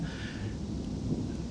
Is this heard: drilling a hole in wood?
no